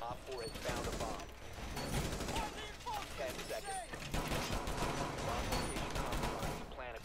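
Gunfire from the Rainbow Six Siege video game rattles on through a dense mix of game sounds, with bursts scattered across the whole stretch and voices talking over it.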